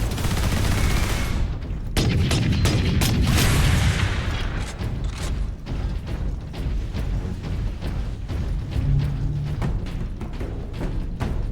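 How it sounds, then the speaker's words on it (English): Sentry guns in Warhammer 40K: Space Marine open fire in loud bursts of rapid gunfire and booming impacts, dense at first and then thinning into scattered sharp shots and mechanical clatter. "Sentry guns ahead."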